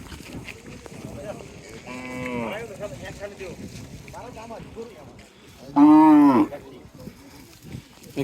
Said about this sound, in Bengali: এই যে এই গরুগুলো ট্রলারে করে এসেছে